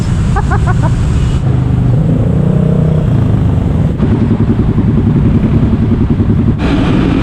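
City road traffic in Manila around Kapitolyo, Pasig, heard from a bicycle: a steady, loud mix of nearby car and motorcycle engines that rumble and rev continuously. A low drone underlies it, with a few clattering bursts.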